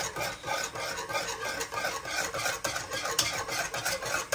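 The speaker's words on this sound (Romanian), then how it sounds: "Deci eu cu o mână amestec, cu una filmez." A spoon scrapes and stirs thick balmoș with sour cream around a pot in a steady, continuous rasping rhythm, close and alone with no talk.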